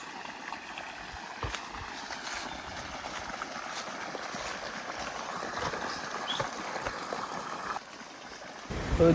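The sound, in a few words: irrigation water flowing in field channel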